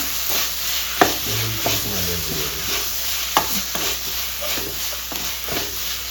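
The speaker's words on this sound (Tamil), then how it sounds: "ஸோ நல்லா ஃப்ரை ஆகிட்டு இருக்குது." Green chillies fry in a pan and are stirred for chilli tofu, giving a steady close sizzle broken by a few sharp scraping knocks of the spoon, with no talking.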